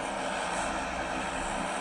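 Constant roaring drone of an airplane engine in the mobile game PUBG Mobile, loud and unbroken throughout the short stretch, with no voices.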